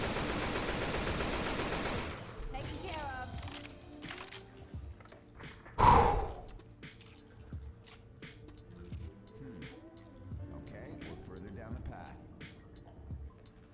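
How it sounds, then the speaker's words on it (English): Video game gunfire: a dense stretch of rapid automatic fire for about two seconds, then one loud nearby burst and scattered lighter shots and mechanical clicks, with a voice talking throughout. "Good shooting at Johnny. Keep shooting Johnny."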